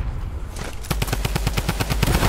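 Rapid burst of drum gun fire in Fortnite, a dense rattling string of close, loud shots after a quieter half-second lead-in, with no talking.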